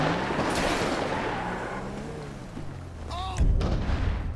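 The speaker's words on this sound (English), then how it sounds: "someone is shooting at us" Gunfire in the video game GTA 5 during a police patrol, a burst of shots and booms sounding amid loud game ambience, with a heavier blast near the end and a voice talking underneath.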